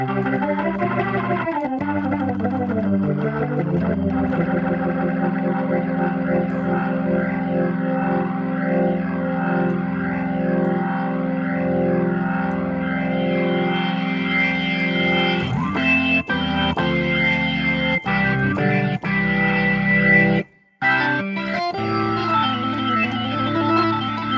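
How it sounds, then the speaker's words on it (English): A sustained, distorted Hammond B-3 organ emulation plays a prog rock progression with swirling chorus and echo, thick held chords shifting steadily, one brief dropout near the end. "So this is prog rock organ 2."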